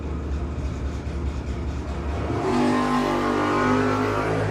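Drag racing cars from a no-box shootout roaring hard down the strip, a loud engine rumble that swells into a higher-pitched scream as they pull away, with no talking.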